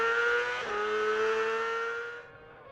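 Onboard a racing sidecar outfit at the Southern 100, the engine howls loud and close at high revs, dips briefly at a gear change, then holds before fading toward the end.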